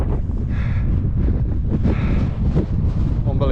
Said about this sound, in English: it's choppy there, all the wind